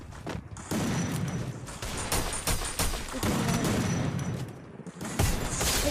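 M10 gunfire in a mobile shooter game: dense rapid bursts of shots and impacts in quick succession, fairly loud with brief gaps, no talk over it.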